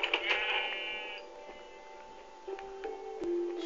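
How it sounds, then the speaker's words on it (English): A sheep in the Minecraft video game bleats once at close range, a short wavering cry followed by quieter game sounds. "Another sheep."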